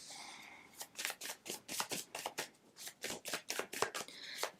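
Tarot cards shuffled and drawn by hand, a quick run of crisp papery riffs and flicks about a dozen times in a row, close and fairly quiet, with no talking.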